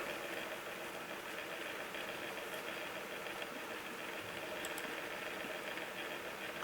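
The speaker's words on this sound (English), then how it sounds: "My computer make noise. That's the electric blower." An electric blower runs beside a computer, giving a steady, low, continuous whirring hum at an even level throughout with no voices.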